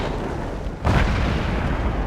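The FV304 self-propelled artillery fires once in a tank video game, a single heavy boom near the middle of the clip that rolls into a low rumble over a noisy game background.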